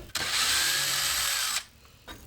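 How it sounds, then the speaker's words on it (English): Cordless drill backing out cabinet hinge screws in a salvaged mobile home kitchen, one loud whirring run of about a second and a half followed by a brief quick blip, up close. "We're going to take the hinges off because we don't want to get any black paint on our black hinges."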